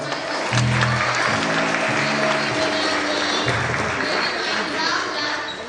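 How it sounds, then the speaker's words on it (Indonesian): An audience at a World Autism Day event in Jakarta claps steadily for several seconds, a dense crowd applause with a few held musical tones sounding underneath. "Oh, tepuk tangan dong."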